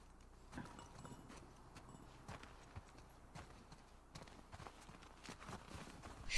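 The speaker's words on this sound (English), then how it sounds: "Her horse's name is Japan" Horse hooves walking in The Last of Us Part 2 video game, a soft irregular clip-clop of steady footfalls, faint and fairly close, with no voices.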